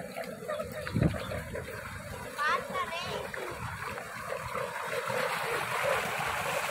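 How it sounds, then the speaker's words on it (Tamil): Water flowing and splashing in a home garden, a steady wet rush running through the whole stretch with a louder splash near the start and a voice speaking briefly over it. "தண்ணி"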